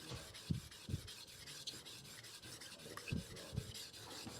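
A hand tool blade is rubbed back and forth across a diamond sharpening stone in steady, rhythmic rasping strokes, quiet and close, with no talking.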